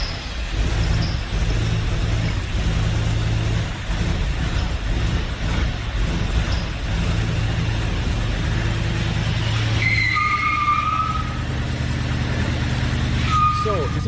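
A restored car's engine runs loud and steady on a test start as the rear wheels spin in place in a burnout, with a droning rumble, a brief squeal and faint beeps toward the end.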